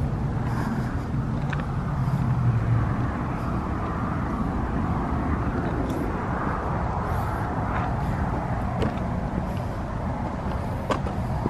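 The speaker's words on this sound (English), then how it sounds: "It's like he keeps driving back and forth. The same car." A car drives past at night near a cemetery, a steady low engine and tyre rumble with faint distant traffic, sustained without any voices.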